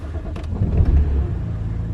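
A BMW E92 325 fires up on a cold day, a low engine rumble swelling near the start and settling into a steady idle, close by and fairly loud.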